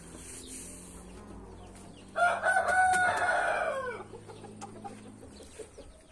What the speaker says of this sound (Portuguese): Tá aí o galo.